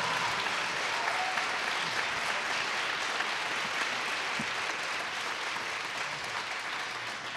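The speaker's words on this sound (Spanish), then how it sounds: "Ernesto, un fuerte aplauso para él." An audience at a Mexican big band jazz concert applauds loudly and continuously, a dense, even wash of clapping that holds steady throughout and eases slightly at the end.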